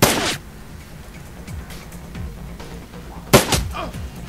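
Two loud gunshots crack in the turn-based video game Shadowrun Returns, one at the start and another near the end, with a quiet low background between them.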